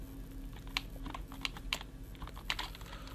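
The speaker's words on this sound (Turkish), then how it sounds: "Klavyenin sesi geliyorsa eğer kusura bakmayın arkadaşlar" Computer keyboard typing close to the microphone during a Minecraft Hexxit gaming session, a steady run of quiet clicks with a few sharper key hits over a constant low background hum.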